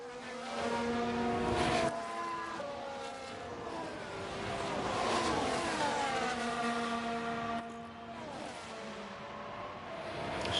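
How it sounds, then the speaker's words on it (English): Race car engine in the F1 Manager 22 game on the Zandvoort circuit, an Aston Martin with an engine fault, giving steady layered harmonic whines that rise and fall in pitch with revs, with brief dips near two and eight seconds. "Still got that weird engine noise issue on Vesti."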